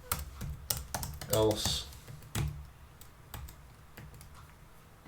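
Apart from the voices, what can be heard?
typing code on a computer keyboard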